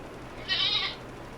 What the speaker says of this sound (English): a tiny goat went off behind me